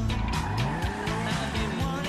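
A car skids on snow in GTA Online, with a loud near engine drone and repeated tire slides and squeals as it fails to brake.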